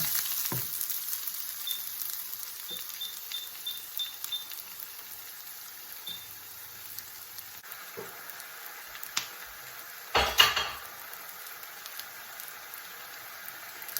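Food fries in a pan with a continuous soft sizzle, punctuated by a few clicks and a clatter of utensils, close by.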